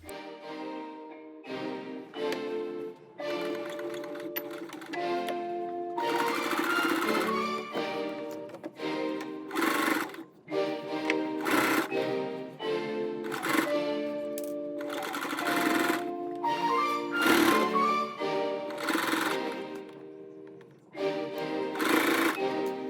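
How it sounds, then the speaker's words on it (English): A sewing machine runs in bursts while stitching a quarter inch around a garment neckline, its steady motor whir stopping and restarting across the whole stretch, close and fairly loud with no talking. "let's go ahead and stitch around the neckline 1/4 of an inch"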